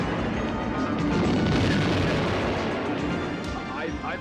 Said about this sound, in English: the exploding mines fill the air with smoke and